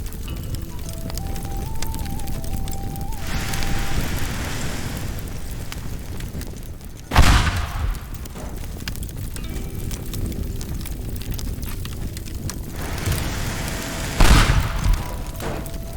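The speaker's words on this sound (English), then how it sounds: "but I'm going to use some explosives" Explosives detonating in the destruction game Teardown, two separate loud booms roughly seven seconds apart over a steady rumbling background and faint music.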